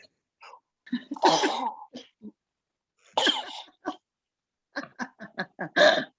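A few short, sharp bursts of sneezing or coughing, close and forceful, separated by brief silences, with no talking around them.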